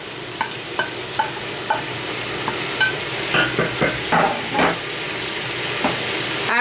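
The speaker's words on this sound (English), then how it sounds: "These onions that we cut up, our veggies, we're going to add those into there." Cut onions and vegetables go into a hot pan with ground beef for homemade spaghetti sauce, giving a steady sizzle under a series of soft stirring scrapes and taps, close up and moderately loud.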